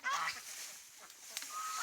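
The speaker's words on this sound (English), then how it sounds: "It's a little bit noisy with the geese and ducks because they've just spotted a stranger." Geese and ducks on a farm calling out at a stranger, a burst of honking near the start followed by scattered fainter calls over steady background noise.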